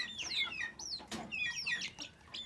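Broody hens cluck and squawk in short, repeated bursts around their nest, with fowl calls overlapping close by and no talking.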